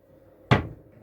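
A workshop cupboard opens with a single sharp wooden knock and thump, close and loud, followed by a brief fading rattle in an otherwise quiet room.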